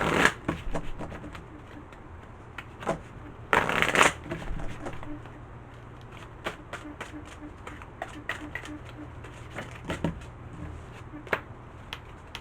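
A tarot deck being shuffled in a quiet room, with soft riffling bursts and scattered card taps, a thicker shuffle flurry near the middle, and faint bird cooing in the background.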